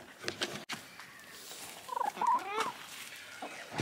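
A very hungry chicken at an Australian homestead makes soft clucks and throaty, warbling calls close by, with light rustling and brief murmurs around it.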